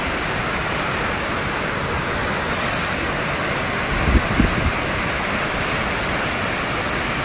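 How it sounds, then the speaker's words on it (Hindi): Jogini Falls near Manali roars as a loud, steady broadband rush of falling water, with a brief low thump partway through. "ये जो है ना ये वाटरफॉल से भी ऊपर वाला एक वाटरफॉल है"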